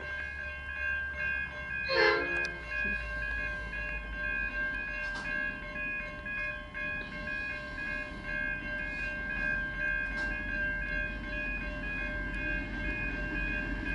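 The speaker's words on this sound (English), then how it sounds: "Here comes the broad gauge vulnerable goods train arriving at South Geelong." A freight train horn blares loudly for about a second at South Geelong station, followed by a steady rumble of the heavy broad-gauge goods train G528 rolling past with faint distant horn echoes.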